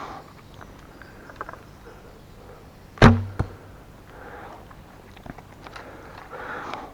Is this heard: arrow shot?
yes